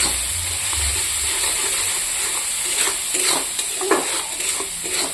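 Spice paste with salt and turmeric fries in oil in a pan, giving a close, continuous hiss with scraping stirs and a few soft utensil clinks toward the end.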